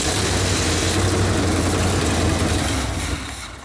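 A Chevelle SS 396 V8 engine starts and runs with a steady, loud low rumble close by, easing off slightly near the end; no voices.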